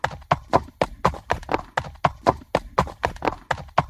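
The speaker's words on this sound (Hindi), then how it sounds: "लकड़हारे ने लंगड़े व मरियल घोड़े को लेकर बाजार की ओर रवाना हो गया।" A lame, scrawny horse led by a woodcutter toward the market in an animated Hindi story plods with steady, close clip-clop hoofbeats, about four evenly spaced steps per second with nothing else heard.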